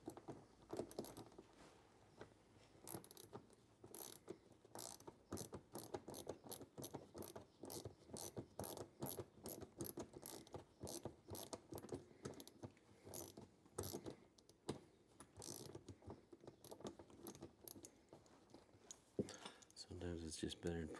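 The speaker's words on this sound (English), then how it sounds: "we're going to remove this screw right here" A ratchet backing out a 7mm screw on a Chevy Silverado or Tahoe headlight assembly, giving close, rapid clicking bursts separated by short pauses, with some metallic handling noise.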